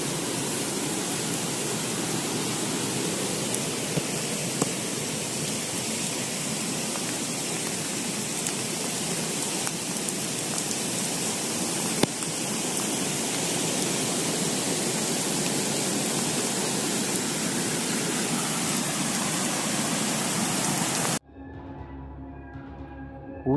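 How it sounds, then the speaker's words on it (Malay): Heavy rain and strong wind in a night storm over a dam, a dense, steady roaring hiss that continues unbroken for about twenty seconds before cutting off abruptly. "Hujan yang sangat lebat, angin yang sangat kuat."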